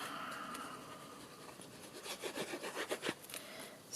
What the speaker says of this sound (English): Yeah, sounds like gardening.